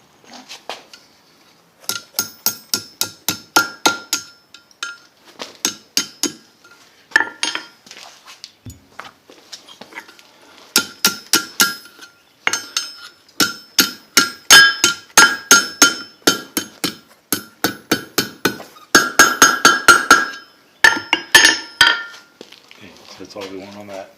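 A hammer rings against hot steel on an anvil while forging a drive hook with a finial, with bursts of rapid metallic strikes separated by short pauses, loud and close, with no talking.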